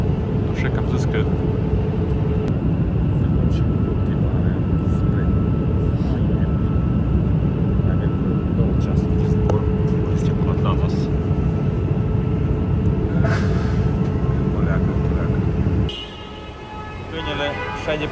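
Airplane cabin hum in the GTA V video game, a steady low engine drone with faint clicks. The drone drops away sharply near the end, and someone talks over part of it.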